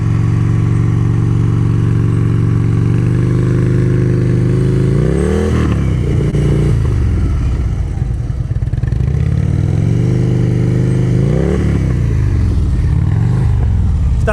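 A motorcycle engine idles and putters loudly during slow-speed riding practice in Ohio, with repeated throttle blips and revs rising and falling in cycles, close to the listener and without talk.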